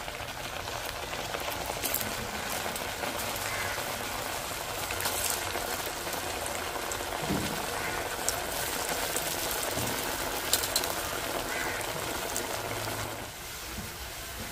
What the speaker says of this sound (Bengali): বাকিগুলো ওইভাবে ভেজে নিচ্ছি।